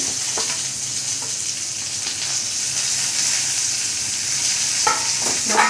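Tomatoes, curry leaves, tamarind, onion and garlic frying in a pan for an okra chutney, giving a steady loud sizzle throughout with a few scraping stirs near the start and end, and no talk.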